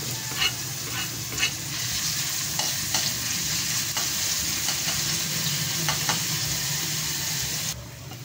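Hot cooking oil heating and frying in a pan for pork nilaga prep, a loud steady sizzle with scattered crackles and a few clinks of a utensil, no talking.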